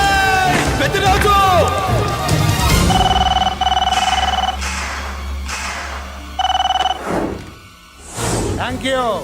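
A telephone rings in a dramatic action film scene, a repeated steady electronic ring in bursts amid loud music and effects, with a voice and other sounds around it.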